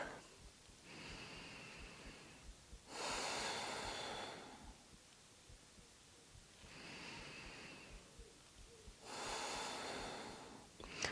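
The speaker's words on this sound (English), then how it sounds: "can you make the inhales and exhales equal length?" Slow, deep breathing during a yoga session, long airy inhales and exhales alternating in an even rhythm, close and soft with no talking.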